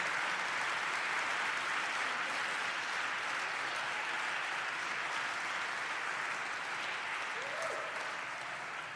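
A large audience applauds steadily at a Massachusetts state announcement event, dense loud clapping that holds evenly throughout and tapers only slightly at the end.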